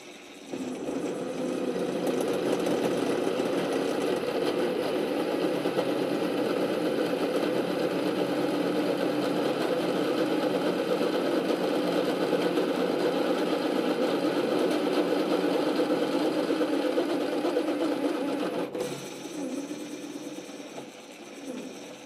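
A Parkside PTBMOD 710 B2 drill press widens a 6 mm hole using a 12 mm bit. It gives a steady, loud motor drone with a broad whirring hum that holds for about nineteen seconds, then cuts off sharply and a fainter tail follows.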